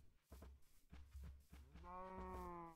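Cows in Minecraft give a few short, low grunting calls followed by one longer, louder tonal moo, close by against quiet game background, with no talking.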